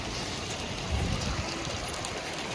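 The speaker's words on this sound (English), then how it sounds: "There's a bunch of hail going on." Hail pelts down steadily during a thunderstorm at an outdoor soccer field, a dense, even patter that fills the whole moment without voices.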